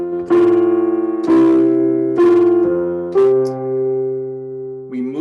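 A keyboard plays a hymn melody with a bass line in the left hand: four steady chords with the tune on top, each struck and then held, close and clear, with a final note at the end and no talking.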